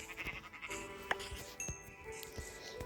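A single short sheep bleat in Minecraft rises briefly over steady game background noise and music, fairly quiet and near.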